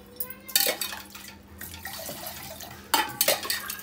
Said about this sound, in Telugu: ఇలాగా చక్కెర నీళ్ళు వేస్తున్నాము